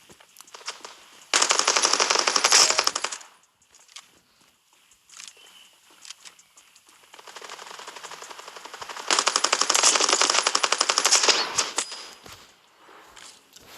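Rapid submachine gun bursts and pistol shots in a first-person shooter video game, loud and sustained in two long stretches with quieter shuffling between them.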